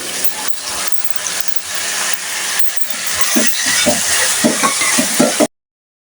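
Dried prawns drop into a pan of fried onions and sizzle steadily, with repeated scraping and clinking stirring strokes over the hiss until it cuts off abruptly.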